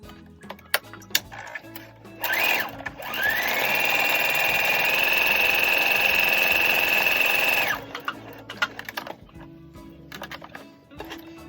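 A sewing machine stitches darts on a Vogue 9253 garment, a rising whirr that holds a steady high-pitched run for about five seconds, framed by soft handling clicks before and after.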